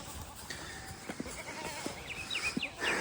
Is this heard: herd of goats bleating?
yes